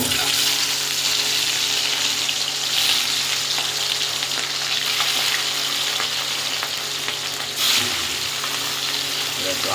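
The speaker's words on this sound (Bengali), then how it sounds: "বন্ধুরা তেলটা গরম হয়ে গেছে এবার মাছটাকে ভেজে দেবো" Katla fish frying in hot oil, a steady dense sizzle that holds loud and close throughout with a brief swell near the end, no voices.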